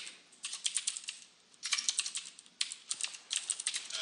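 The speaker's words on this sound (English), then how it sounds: "And while I'm typing this out" Code typed on a computer keyboard during Unity game development, rapid clattering keystrokes in three bursts separated by short pauses, close and clear with no talk.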